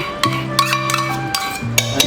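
A spoon scrapes and knocks in a pan while keema kaleji with curd is stirred over high flame, giving several short, spaced strokes over a steady tonal background.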